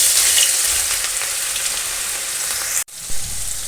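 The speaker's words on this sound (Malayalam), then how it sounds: "എന്നിട്ട് ഇനി അതിലേക്ക് നമുക്ക് 1 ടേബിൾ സ്പൂൺ ഇഞ്ചി വെളുത്തുള്ളി ക്രഷ് ചെയ്തിട്ട് കൊടുക്കാം." Crushed ginger and garlic sizzle in hot coconut oil in a pan for a Kerala-style chicken curry, a loud close crackle with stirring, cut by a brief break before the frying resumes.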